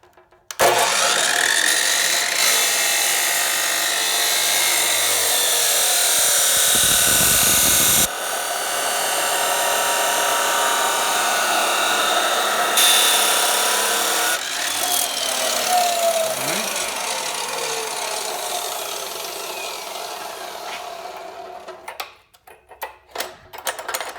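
A power cutting tool whines steadily through a steel roll bar tube for a 1964 Ford Fairlane race car, a loud continuous grinding drone that shifts pitch, briefly pauses, then tapers into scattered clanks at the end.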